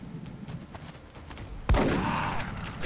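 Weapon fire in XCOM: Enemy Unknown: faint scattered background noises, then a single sharp, loud shot whose booming tail rings on to the end.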